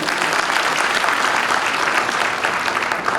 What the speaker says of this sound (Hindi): जोरदार ताली बजाएं आप अपने लिए